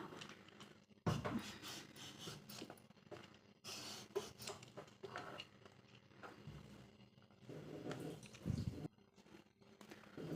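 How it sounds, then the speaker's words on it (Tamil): Bottle gourd skin being scraped off with a peeler, intermittent rough rasping strokes in short bursts separated by pauses, close and fairly quiet with no speech. "இந்த தோலை மட்டும் முதல்ல சீவி எடுத்துக்கலாம்"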